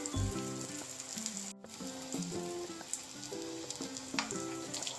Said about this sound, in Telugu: ఒకవైపు ఫ్రై అయ్యాక ఇంకో వైపు అయితే తిప్పేసుకోవాలి.